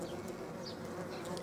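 A flying black wasp or Asian hornet gives a steady, continuous buzz close by for about a second and a half.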